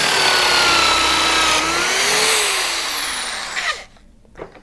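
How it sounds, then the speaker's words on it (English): A power drill with a plug cutter whines steadily at high speed as it bores wood plugs, the pitch shifting under load, then winds down and stops, leaving a few faint clicks. "all we're going to do here is put it into the guide and drill."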